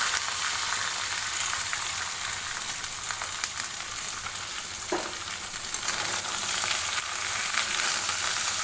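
Mixed chopped vegetables frying in a pan with cumin, a steady broadband sizzle running throughout with a brief clatter midway, no talking.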